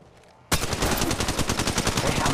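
Rapid automatic gunfire in the mobile shooter Apex Legends Mobile, a fast rhythmic stream of shots bursting in after a quiet half-second and continuing loud and close to the end.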